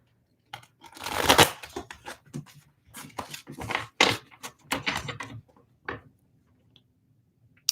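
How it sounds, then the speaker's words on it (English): Tarot cards are shuffled by hand close by in irregular bursts of soft riffling, slapping and tapping, separated by short pauses, with no talking. "I give it another little shuffle."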